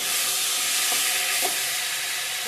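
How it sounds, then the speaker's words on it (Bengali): Fish curry frying in a pan with taro and potatoes, a loud, steady sizzle and hiss of hot oil. Faint stirring clinks sound under it, with no talk. "ভালো করে ভেজে নিব"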